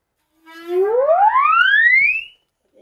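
A large musical saw with a long blade sounds one sustained, singing tone that starts low and glides smoothly upward over about two seconds, loud and wavering slightly, heard alone.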